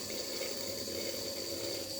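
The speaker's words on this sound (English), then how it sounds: "the motor is working and the water is flowing through this" Water pushed by a small motor pump through the pipeline of a poultry farm science model, a steady continuous trickle and flow with a faint motor hum underneath, no talking.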